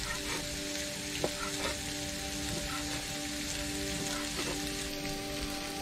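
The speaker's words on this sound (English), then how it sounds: "The onions are cooking away here quite nicely." Onions frying in a pan aboard a narrowboat, a soft steady sizzle and crackle heard up close with a faint background hum and an occasional light tap of stirring.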